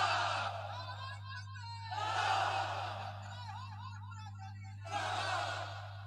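A crowd at an Islamic sermon gathering shouts the takbir in three loud, massed bursts, with quieter murmuring and a steady low hum between the calls.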